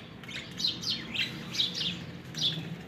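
A young bird chick, from a newly paired breeding pair, gives a run of quick high chirps about every half second, faint and somewhat distant over a low background murmur.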